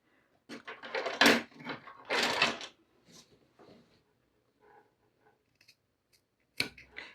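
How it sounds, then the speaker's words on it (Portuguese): Scissors snip through fabric t-shirt yarn at the end of a crochet bag seam, making two or three close, crisp cuts, then only faint scattered handling noises and a final brief rustle. "Agora, eu vou cortar esse meu fio."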